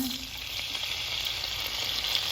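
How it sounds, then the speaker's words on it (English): Garlic sizzles in a pan for a butter chicken dish, a steady, fairly soft frying hiss heard up close with no talking. "Your garlic's gonna saute here in a sec"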